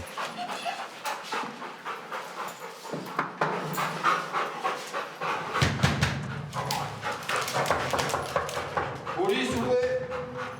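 A police sniffer dog pants rapidly and steadily close by during a search of an apartment building with a French police unit, with footsteps, shuffling and people talking throughout.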